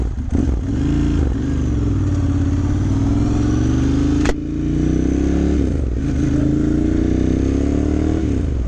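The V-twin engine of a 2009 Ducati M1100 Monster revs hard up close, rising and falling through several loud throttle blips with a brief crack midway.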